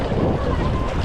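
A kayak paddle splashes and churns seawater along a Konkan beach during a race, a loud rushing wash mixed with wind buffeting the microphone.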